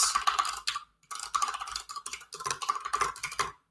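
Rapid bursts of typing on a computer keyboard, close and clear, in three runs of clattering keystrokes separated by short pauses, with no talking.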